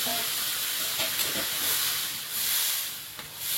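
Water hits a hot cooking pan while a Bengali mango and mourala fish sour curry is being made, giving a steady close hiss and sizzle that rises and falls slightly, with no talking.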